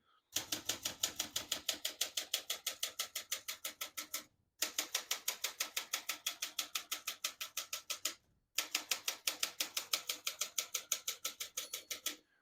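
Rapid, steady keystrokes from a 1970s Olympia Traveller portable typewriter clatter in three long runs, each separated by a brief pause, close and crisp with no voices.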